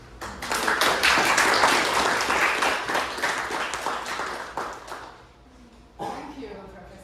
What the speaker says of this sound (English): let's give Xintong a round of applause